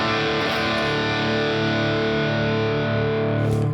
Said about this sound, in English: that's the chord and the sound which defines a Gibson Les Paul